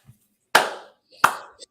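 Two sharp, isolated hand claps about 0.7 seconds apart, crisp and fairly close, with near silence between them and no talking.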